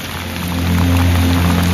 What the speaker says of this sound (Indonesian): Cuaca hujan, teman-teman.